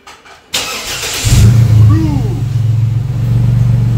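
A car engine cranks and catches after a few clunks, then settles into a loud, steady idle with slight revs, close up, with a voice briefly heard.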